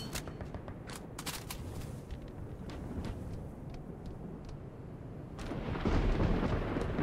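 Thunderstorm in the Halo: Reach video game, low rumbling and crackling thunder with sharp bursts, swelling into a louder roar near the end, no talk.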